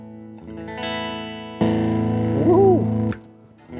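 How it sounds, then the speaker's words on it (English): Electric guitar played through a Fender Tone Master amp with a dry super reverb setting, sustained chords ringing out loud with a bent lead note in the middle and no talking. "let's listen to this guitar"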